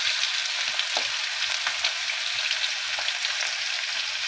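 Green chilies with small and large onions sauté in a pan, a dense, continuous hissing fry at close range with faint scattered ticks of stirring and no voices.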